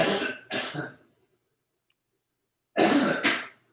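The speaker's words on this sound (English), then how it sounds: "Somebody mute yourself. You're coughing." Two pairs of short, harsh coughs, the first pair at the start and the second after a quiet gap, fairly close and loud.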